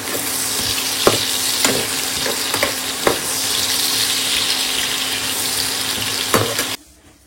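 Hot oil sizzles steadily in a pan set up for frying okra and pumpkin, a continuous close hiss broken by a few sharp crackles and pops before it cuts off abruptly near the end.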